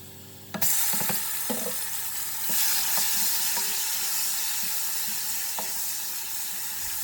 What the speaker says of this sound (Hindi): अदरक और लहसुन हल्का सा ब्राउन होने के बाद हम डाल देंगे 1 कटा हुआ टमाटर।